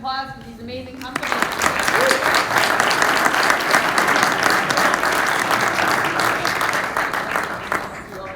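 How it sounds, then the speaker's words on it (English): Audience applause at a startup pitch competition, a full room clapping steadily and loudly for several seconds after a brief quieter lead-in, with scattered voices mixed in. "can I have one more round of applause for these amazing companies?"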